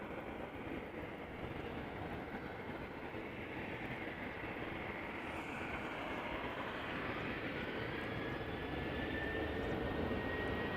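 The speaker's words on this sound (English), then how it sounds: "KLM flight 1619 going to Milan, 737-800, 3 years old" A three-year-old KLM Boeing 737-800 taxis at Amsterdam Schiphol, its engines producing a faint, steady rumble that rises slightly toward the end.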